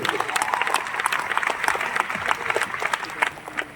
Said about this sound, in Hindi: तो उनके लिए एक बार जोरदार तालियां बजा दीजिए